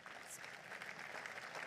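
Audience applause at a live political rally in Hannover, a steady wash of clapping from a crowd that holds at an even, moderate level throughout, with no voices on top.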